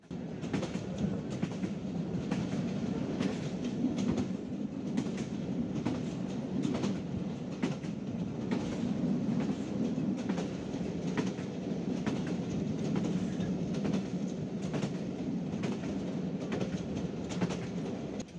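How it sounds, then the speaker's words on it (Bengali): The Sirajganj Express passenger train runs on rails on a foggy morning between Raipur and Jamtal stations, giving a steady, even rumble with regular rhythmic clacks from the wheels throughout. "কুয়াশার সকালে ছুটে চলেছে আমাদের সিরাজগঞ্জ এক্সপ্রেস।"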